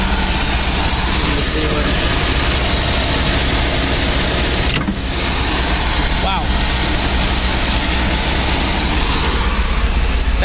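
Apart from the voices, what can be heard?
MGB car engine running on the choke after carb rebuild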